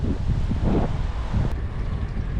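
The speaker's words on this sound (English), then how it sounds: "It's getting windy" Steady wind buffets the microphone with a continuous low rumble and rushing noise, no voices present.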